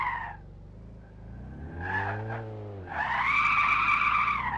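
Tires squeal as a car skids and spins out after a yank of the e-brake in a car crash simulator game, a loud, wavering screech that dips and then swells again over engine noise.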